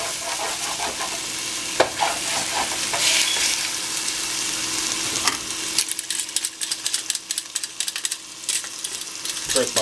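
Chicken thigh pieces and vegetables scraped and stirred in a hot frying pan with ghee, a steady sizzle under repeated clattering utensil scrapes that grow choppier toward the end.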